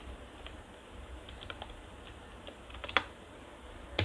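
Someone types a database name on a computer keyboard: faint, sparse keystroke clicks, some in quick clusters, with a couple of sharper taps standing out against a quiet room.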